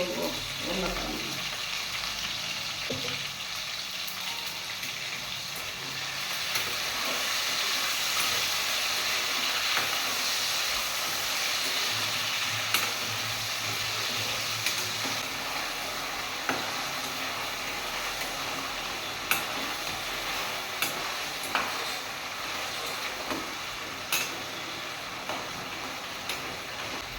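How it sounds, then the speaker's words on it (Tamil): Potatoes with a pinch of salt frying in oil, cooked for breakfast roti noodles, give a steady, unbroken sizzle and hiss that fills the whole stretch at moderate loudness, with no talking over it. "இதில் உருளைக்கிழங்கு எண்ணெயில் கொஞ்சம் வச்சுக்கணும்."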